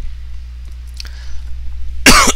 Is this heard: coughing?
yes